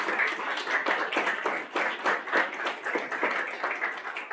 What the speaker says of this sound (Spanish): Con el aplauso afectuoso de ustedes, damos la más cordial de las bienvenidas a nuestra invitada Itzia Pintado